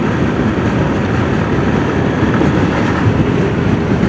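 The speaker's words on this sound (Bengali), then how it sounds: "ওই মাঝখান দিয়ে রেলটা যায়।" A train passing along a railway line seen from a bridge, a loud steady broadband rumble lasting throughout with no voices.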